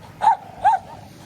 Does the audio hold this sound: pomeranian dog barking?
yes